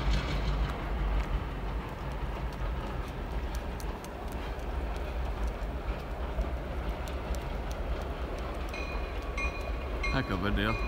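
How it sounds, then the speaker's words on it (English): A train passing during a one-mile dog walk, its low rumble and rolling rail noise steady throughout, with a person talking now and then over it. "I think you got a train over here"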